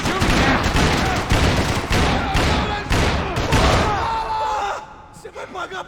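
A Max Payne 3 shootout of loud, rapid gunshot bursts close up, fading out near the end, while someone shouts over the firing.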